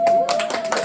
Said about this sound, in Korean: 우리 박수 한번 더 치도록 하겠습니다